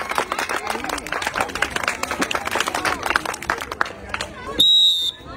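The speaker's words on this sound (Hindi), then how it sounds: "जोरदार तालियां" Audience at an entertaining stage game breaks into loud, dense clapping that rattles on for about four seconds, then gives way to a brief high electronic tone.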